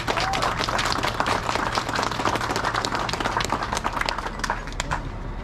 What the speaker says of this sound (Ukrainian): Давайте привітаємо його гучними оплесками.